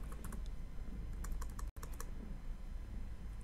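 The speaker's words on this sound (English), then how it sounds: "I'm going to type" Keystrokes tapped on a computer keyboard while entering a short word into a program window, arriving in quick irregular bursts over a low steady room hum, close and clear with no one talking.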